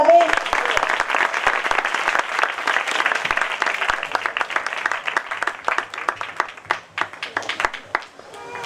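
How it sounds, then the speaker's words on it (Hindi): Congregation applause at a revival meeting, dense hand clapping that starts full and gradually thins into scattered individual claps toward the end, with a voice heard briefly at the start. "तालियां बजा दें।"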